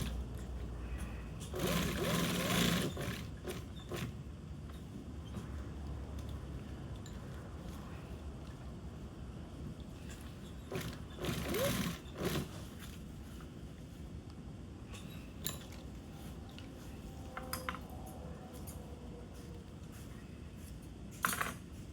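Sewing machine stitching a hem on marine canvas, short bursts of rapid mechanical whirring and clatter, close and fairly quiet, separated by pauses with small handling noises.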